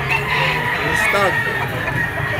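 A stag rooster crows at a busy live chicken auction market in Lipa, one drawn-out call rising over steady crowd noise, with other fowl clucking and people talking nearby.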